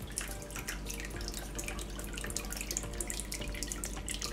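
An indoor decorative waterfall, with a flowering bougainvillea leaning over it among houseplants, trickles and splashes in a continuous, gentle patter with no voices.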